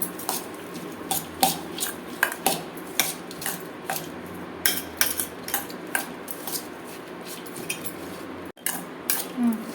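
Chopped vegetable salad is tossed with chili powder and salt, a busy run of close clinks and scrapes of a spoon against a bowl, fairly loud, with no one speaking.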